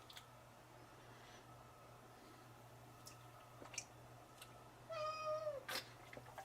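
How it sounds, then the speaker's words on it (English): A whiny kitten lets out a brief meow near the end, a rising-falling cry over a steady low hum in a quiet room, with a few soft clicks earlier. "Are you a whiny kitten?"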